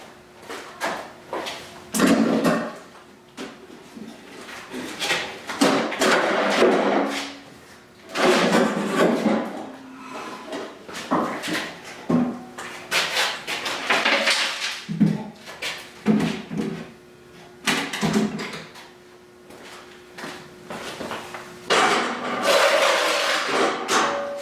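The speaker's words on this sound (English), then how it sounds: "it's time to wrestle the wooden tub out of the chassis" Wooden tub being worked loose from a car chassis: repeated knocks, thumps and scraping in irregular bursts, fairly close, with occasional talk between efforts.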